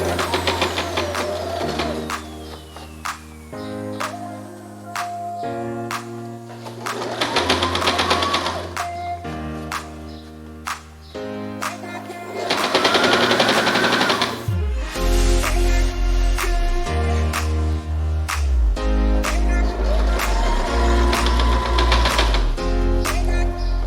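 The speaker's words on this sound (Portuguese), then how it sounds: "Eu começo dobrando e já costuro bem na borda para o acabamento ficar bonito." A sewing machine runs in long steady bursts, stitching the folded edge of a handmade espadrille, loud and close with brief pauses between runs.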